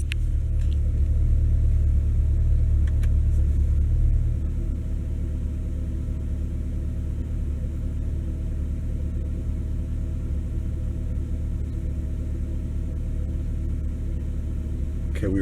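A C8 Corvette with the stock NPP exhaust in Z mode idles with a deep, steady, close rumble, heavier for the first four seconds and then settling into a slightly softer continuous drone.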